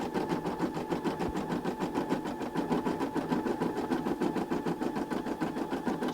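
A Brother SE600 embroidery machine stitching out a patch, with a steady fast mechanical needle rhythm, even repeating clatter and hum, close and continuous with no talk.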